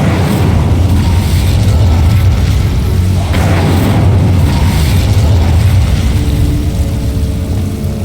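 Casting the Incendio fire spell in Hogwarts Legacy unleashes a loud, sustained roaring whoosh of flame with deep rumbling booms that fill the whole stretch.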